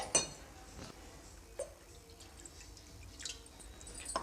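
Water going into a bowl of sugar to make syrup for dry gulab jamun: a few faint, scattered drips and small glassy clinks, quiet and close, with no one speaking.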